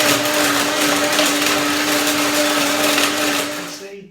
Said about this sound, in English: So I will blend it now and see if I get a creamy texture.